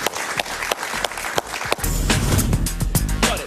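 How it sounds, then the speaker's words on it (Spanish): A television studio audience applauds a guest, Colombia's foreign minister Carlos Holmes Trujillo, with dense, loud, sustained clapping that swells after a few sharp opening claps. "Un aplauso para él, por favor."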